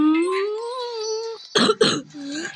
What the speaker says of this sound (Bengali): আমার গাইস আজকে অনেক কাশি আর বমি হইতেছে